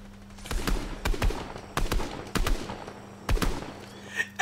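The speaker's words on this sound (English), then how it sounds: "Yeah, keep shooting him! Keep shooting him!" Gunfire in Fortnite Battle Royale, several sharp bursts of rapid shots in a close, loud rhythm with brief pauses between them over a steady low hum.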